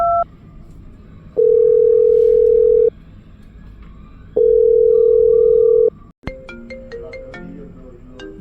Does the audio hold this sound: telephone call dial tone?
yes